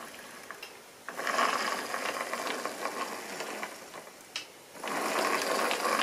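A Lima H0 scale model train locomotive with a triple motor runs on its track, a steady whirring, gear-like mechanical hum that drops briefly and resumes, with no talking.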